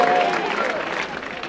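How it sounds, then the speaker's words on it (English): A town crowd at a wood-burning event breaking into applause and cheering, a loud, dense burst of clapping and voices that tapers slightly over its brief span. "A big cheer for Dick!"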